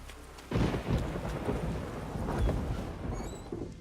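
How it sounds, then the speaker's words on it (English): In The Witcher 3: Wild Hunt, a thunderclap breaks over steady rainfall, a sudden heavy rumble that rolls on beneath a continuous hiss of rain, moderately loud with no voices. "It's raining."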